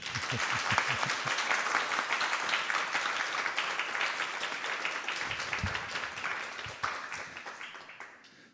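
Audience applause after a Bhagavad-gita 10.8 lecture, a dense wash of many hands clapping close and steady for several seconds, with a few louder individual claps near the start, slowly thinning toward the end.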